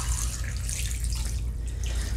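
A full gallon of water pours steadily into a crock pot for homemade bone broth, a continuous splashing gush heard up close without talk.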